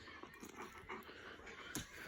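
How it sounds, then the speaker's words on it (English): Dogs, a golden retriever and German shepherds, whimper and pant softly at close range, with breathy puffs and faint whines over a hissy background. "Dogs, get away."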